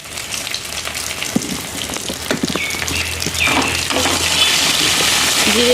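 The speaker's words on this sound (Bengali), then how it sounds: "এখন আমি তেজপাতা, শুকনো লঙ্কা ফোড়ন দিয়ে দেবো, আর দিয়ে দেবো জিরে।" Bay leaf, dried chilli and cumin hit hot oil in a pan, giving a close, steady crackling sizzle that swells and grows denser, with scattered pops and faint clinks throughout.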